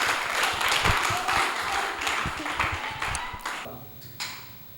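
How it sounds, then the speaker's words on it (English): Audience clapping for poetry slam semi-final performers, a short burst of scattered applause with a few sharp claps, fading out over a few seconds. "A round of applause for them."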